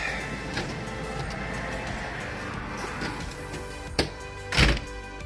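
A newly installed storm door closes and latches, with a faint knock early on, then a sharp click and a heavier thud as it seats, heard close against a quiet room.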